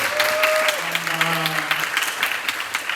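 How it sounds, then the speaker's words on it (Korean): Audience applause at a live church radio-style gathering, steady clapping throughout with a voice speaking over the first part. "네, 박수 한번 다시 한번 보내주세요."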